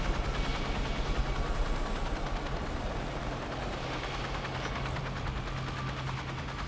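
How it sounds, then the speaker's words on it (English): A helicopter lifts off from Ranger Citadel in the Wasteland 2 video game, its steady rotor thump and engine drone holding loud and continuous without pause. "As our helicopter rises from Ranger Citadel"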